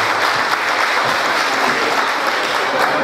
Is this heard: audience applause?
yes